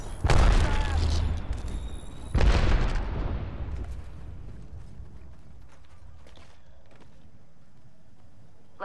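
A frag grenade explosion in the Apex Legends battle royale game, with two loud booming blasts about two seconds apart, each trailing off into lingering game noise.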